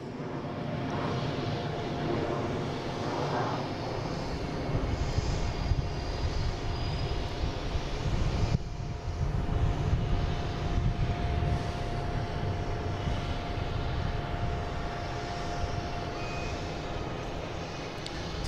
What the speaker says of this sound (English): It's an A220, flight 862.